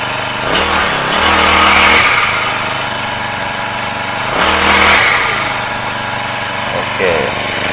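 A Honda 4-stroke brush cutter engine runs close by, idling steadily and revving up twice in rising bursts before settling back, with a voice talking over it.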